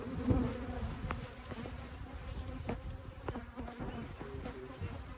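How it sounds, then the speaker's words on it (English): A steady, dense buzzing of many angry honeybees close by at a hive being robbed of honey, with occasional sharper passes and clicks, no voices. "I was able to stay semi-calm as I made the bees angry"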